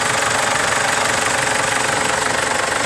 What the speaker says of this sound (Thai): ต่อสตาร์ททิ้งไว้พักหนึ่งก่อนนะครับ